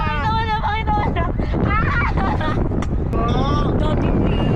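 Strong wind roars across the microphone as a constant loud rush during an amusement park ride at Enchanted Kingdom, while people talk and call out over it.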